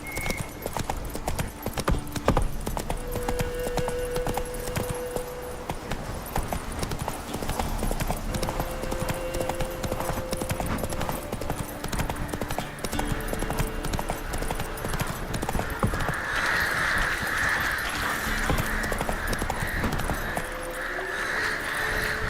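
Horse hooves clip-clop at a steady trot for over twenty seconds in The Witcher 3, close and continuous, with occasional jangling tack and a brief spoken line over game ambience.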